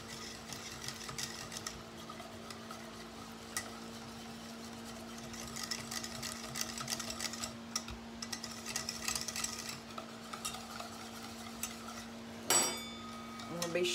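Powdered sugar is stirred into a butter mixture for a Texas chocolate sheet cake, with soft repeated scraping and clinking of a utensil against the bowl, a steady low hum underneath, and one sharper knock near the end.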